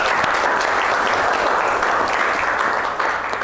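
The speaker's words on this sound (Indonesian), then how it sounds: "Tepuk tangan buat Dika" A class applauds a student with loud, sustained clapping from many hands close by. The applause holds steady throughout and dips slightly near the end.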